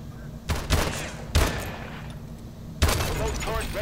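Gunshots in a first-person shooter video game: three loud, sharp bursts spaced about a second apart, each with a brief ringing tail, over a steady low game hum.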